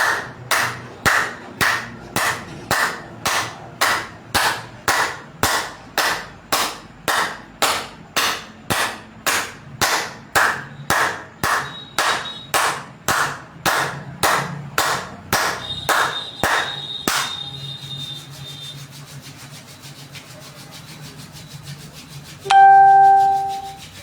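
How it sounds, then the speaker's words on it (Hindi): Steady, evenly spaced claps repeat in a brisk rhythm for about seventeen seconds, then stop; a bell-like ring sounds near the end. "तालियां बजाएं, रोग को भगाएं।"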